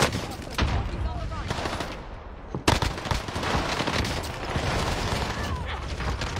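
Rapid bursts of video game gunfire crackle in a shootout, with automatic fire in quick clusters and a sharp louder report partway through, while players talk over the action.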